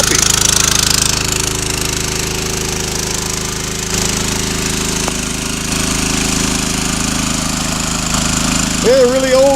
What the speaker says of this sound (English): a really old Keene dredge that I've just kind of cobbled back together